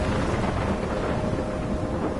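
A thunderstorm in Life is Strange roars as a dense, steady wash of heavy rain and low rumbling thunder, loud and close throughout with no voices.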